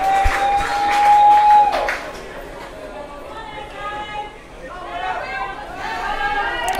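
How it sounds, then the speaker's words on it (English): Western Australian crowd at an under-18 bronze medal baseball game, WA versus SA, makes a broad murmur of chatter with scattered claps and cheers under a commentator's steady talk, swelling briefly and then settling. "Bit of noise from this Western Australian crowd sensing the moment."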